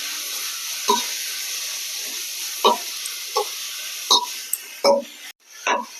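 Mint leaves and salt sautéing with tomato in a pan for mutton biryani: a constant sizzle punctuated by about six sharp scrapes and clanks of a spoon stirring against the metal.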